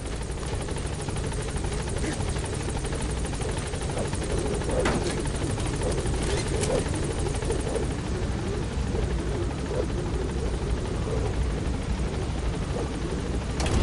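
A helicopter lifts off in Metal Gear Solid V, its rotor drone loud, steady and close throughout, with occasional game effects over it.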